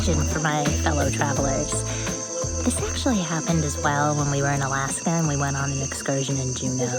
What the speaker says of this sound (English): there are just some beautiful birds and crickets and just the beautiful